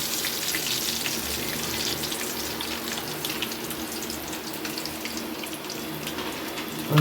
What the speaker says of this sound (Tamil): நான் அழகாக பொறிச்சு எடுக்கிறேன்